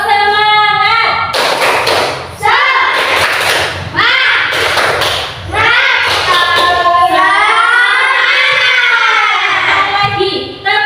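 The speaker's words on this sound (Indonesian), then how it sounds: "Tepuk semangat." A class doing a rhythmic spirit clap, with bursts of loud, close hand claps and slaps alternating with chanting voices in a lively classroom.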